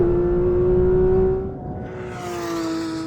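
A Porsche 911 GT3 accelerates hard with traction and stability control off, its engine note a loud, steady high whine that dips briefly mid-run then climbs again, heard alone without voices.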